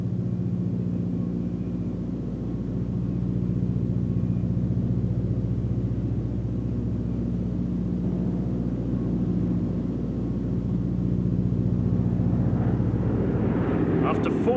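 A formation of aircraft flying in over the white cliffs of Dover, their engines making a continuous, droning rumble that holds steady and swells slightly louder near the end, with a voice talking over it.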